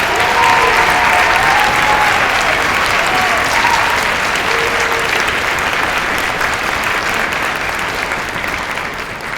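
Students in a concert hall applaud to honor orchestra teachers at an honor orchestra concert, a broad sustained ovation that stays loud and gradually eases toward the end, with a few faint voices mixed in.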